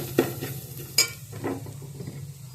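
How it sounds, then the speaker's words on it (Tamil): Masala with chili powder is stirred and fried in a pan on low heat: a soft sizzle under sharp metal clinks and scrapes of a spoon against the pan, over a faint steady hum. "போட்டு நல்லா லைட்டாக சிம்மில் வச்சுட்டு பச்சை வாடை போகிற அளவுக்கு இதை வணக்கணும்"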